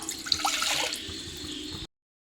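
Water pours steadily into a pot holding chicken for a curry, a continuous splashing rush lasting under two seconds before cutting off, with no talking.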